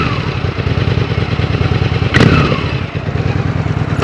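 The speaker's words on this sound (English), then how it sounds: "Honestly, this has a pretty darn good sound for a stock exhaust too." A Honda Shadow motorcycle with stock exhaust thrums close and loud at a steady idle, with a brief clattering burst midway.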